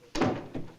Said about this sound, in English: Well, I'd better lock this door.